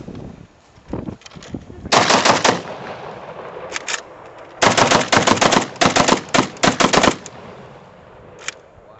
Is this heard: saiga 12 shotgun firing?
yes